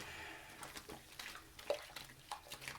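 Water splashes and trickles while a stuffed toy is rinsed under a running tap, a steady wet wash with small irregular splashes and drips close by.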